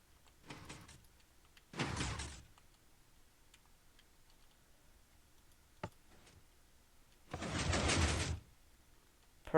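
Sliding airlock door in a building game, opening with two separate bursts of mechanical whooshing, near and fairly loud, set apart by quiet gaps and a few faint clicks.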